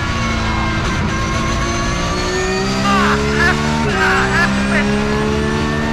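A race car engine howls on track during laps, loud and close with rising and falling revs and gear changes, while a voice talks over it.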